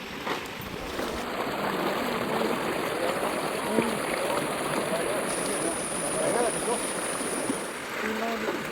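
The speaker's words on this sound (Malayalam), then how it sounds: "തോട്ടിൽ വെള്ളം കയറിക്കൊണ്ടിരിക്കുകയാണ് കേട്ടോ." Water flows steadily along a village canal, a constant broadband rushing that holds at a fairly even level throughout, with faint voices and a thin high electronic tone above it.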